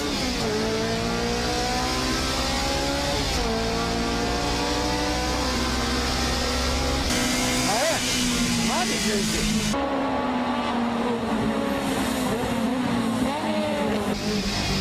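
Honda S2000 race cars launch at the start of a wet race, engines revving hard and rising through gears with spray hiss in the background, under continuous excited commentary.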